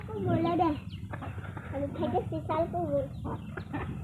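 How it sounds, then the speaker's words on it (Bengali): Chickens cluck in short, repeated bursts close by on a cold winter day, while people talk intermittently in the background. "মুরগি আইছে"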